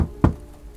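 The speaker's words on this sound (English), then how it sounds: "suddenly he heard a knock on his door sometime in the evening" A single sharp knock on a door sounds once, short and fairly close, in an otherwise quiet room.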